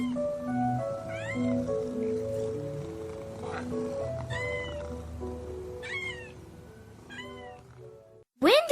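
A mother cat and her young kittens meow repeatedly, several high, rising cries scattered over a steady low background. A loud, sharp burst comes close at the very end.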